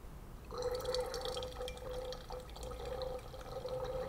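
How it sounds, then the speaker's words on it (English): Wine pours through an aerator into a decanter, a steady close trickle and bubbling gurgle as air mixes in, lasting several seconds at low volume. "Now you can hear it as it's pouring, and you can hear the air being added into the wine."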